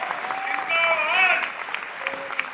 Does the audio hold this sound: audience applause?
yes